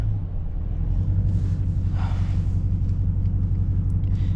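A Dodge Charger R/T engine rumbles steadily and loudly while driving through city streets, a deep continuous low drone with a brief rise in intake noise midway.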